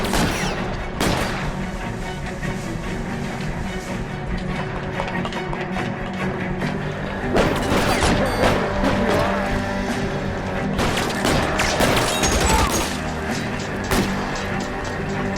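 Gunfire in LA Noire, with scattered sharp shots breaking out in loose clusters over a busy, continuous bed of game noise and music.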